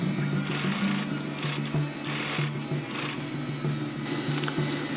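A sewing machine stitches a box shape onto a compression strap for a sleeping bag, a steady rapid mechanical whir with brief pauses and restarts, fairly close.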